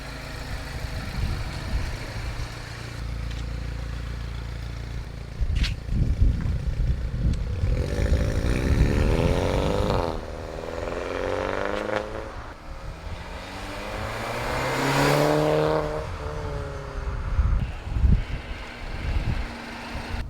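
R56 Mini Cooper fitted with a new downpipe exhaust, driving with engine revs swelling and dropping through gear changes, rumbling exhaust note mixed with road noise, moderate level and no talking.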